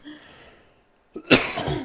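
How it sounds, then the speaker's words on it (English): After a faint quiet stretch, two people cough sharply together, close and loud, the burst trailing into a rough breathy tail. "Synchronized coughs."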